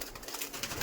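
Chatiyal pigeons at a bustling pigeon market in Dhulagarh, soft cooing and bird calls mixed into a dense, noisy crowd hubbub, brief and fairly faint.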